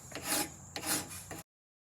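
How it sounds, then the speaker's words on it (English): A hand file rasping across the heel of a steel hatchet head to remove mushroomed edges, three close scraping strokes in a steady rhythm, loud and near, with no talk. "we're going to take a file to the heel of it or the pull to file it down to get these mushrooming sides off"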